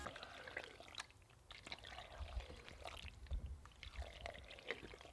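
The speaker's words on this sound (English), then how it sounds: "we're going to mix all the pasta in with the mac sauce" Cooked pasta is stirred into a vegan mac and cheese sauce in a pot, giving wet, squelching, gloopy sloshes in an uneven rhythm, fairly close and soft, with no talking.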